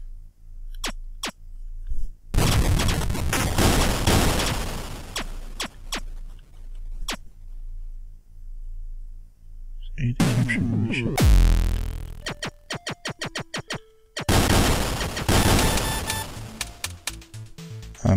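Gunfire in the retro-style shooter Enemy Mind comes as bursts of harsh, clattering electronic shots separated by silent gaps, from isolated single clicks to long rattling volleys, loud and crisp.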